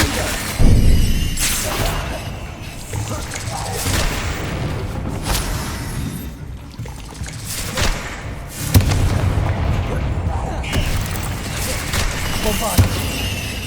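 Repeated fiery spell blasts from Confringo in the wizarding video game Hogwarts Legacy, several heavy booms and crashing impacts spread through a chaotic duel, with a player's voice shouting spell names over them.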